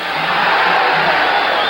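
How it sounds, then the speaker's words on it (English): A boxing crowd at the Arguello vs Escalera fight roars and yells as Escalera lands blows in the 13th round, a loud sustained wash of arena noise with no distinct voices. "And the crowd yells now with every Escalera blow."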